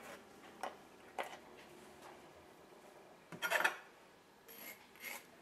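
Raspberry pulp pressed through a mesh sieve to strain out the seeds, giving soft intermittent scraping and rubbing strokes, with a louder rasping burst near the middle, close and quiet, no talking.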